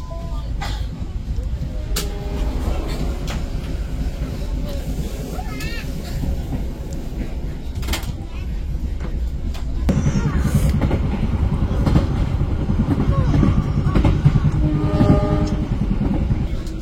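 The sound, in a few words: KA Airlangga passenger train departing and running on rails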